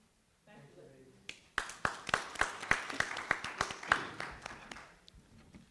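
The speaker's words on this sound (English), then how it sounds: "Let's give these ladies another round of applause." A short burst of clapping at a school board meeting, about a dozen sharp claps in a steady rhythm, mixed with a low murmur of voices.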